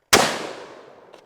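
A single .500 Magnum gunshot cracks sharply and loudly at close range, then fades away over about a second. A faint secondary knock follows just before the end.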